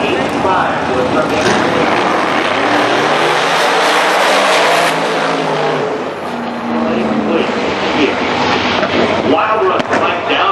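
Mike Downing's drag racing car, run in a smoky burnout launch, roars loud and continuous down the track with a rising and falling engine note, crowd and announcer voices mixed underneath.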